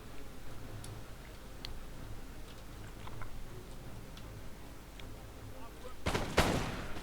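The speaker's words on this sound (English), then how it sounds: "Cognot Rangers firing some volleys into the chasseurs" Musket volleys crash out in a Napoleonic battle in Total War: Napoleon, a loud burst of gunfire near the end following a long stretch of soft, scattered ticking shots over low battlefield rumble.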